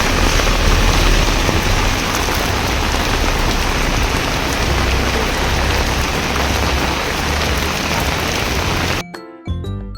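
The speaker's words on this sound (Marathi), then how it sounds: "तिकडे बघा खूप जोरात पाऊस पडतो" Heavy rain pouring down outdoors, a dense steady roar close by that cuts off abruptly near the end, followed by faint scattered background sounds, no speech.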